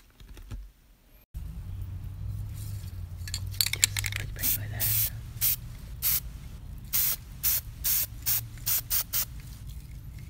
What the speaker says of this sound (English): Okay, so I'm gonna spray paint the second part.